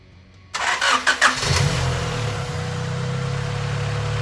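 A Honda Accord with a B16 intake manifold fitted cranks for about a second after brief quiet, then catches and settles into a steady, low idle, heard close and alone.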